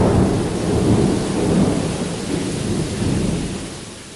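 Cyclone thunderstorm in Kerala at night: heavy rain pours steadily in a dense hiss while deep thunder rumbles through it, loud and continuous.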